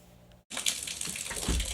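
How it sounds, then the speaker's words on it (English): Water bursts out with a sudden rushing gush after the supply is switched back on during a tiny house expansion project, following a brief silence; the flow is close and steady. "Why did he cut this water back on?"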